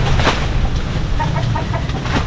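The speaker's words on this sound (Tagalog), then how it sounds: "Ayan, may mga manok po." Chickens cluck near a backyard coop, soft repeated clucks in a short burst over a loud, steady background rumble.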